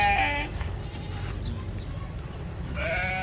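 Goats bleating at a livestock market in Tarim, Yemen, with several close, loud bleats at the start and again near the end over a low background rumble.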